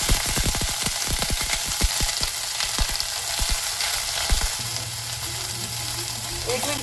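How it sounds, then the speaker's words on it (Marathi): Broccoli roasts in ghee in a pan with a steady hiss of sizzling, punctuated early on by a rapid run of sharp clicks and taps from stirring that thin out as the frying settles. "ब्रोकोली थोडासा भाजून घेऊया."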